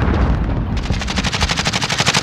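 Automatic gunfire in a multiplayer shooter video game, loud and close, a rapid even burst of shots that speeds up after a brief opening rumble, with no voices over it.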